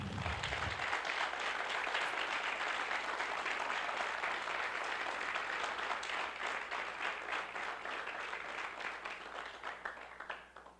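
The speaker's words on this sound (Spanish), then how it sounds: "Vamos a darle un aplauso a la persona del Espíritu Santo." A church congregation at a Bible teaching on the Holy Spirit breaks into sustained applause, a dense, even rush of many hands heard at a distance that holds steady, then tapers off near the end.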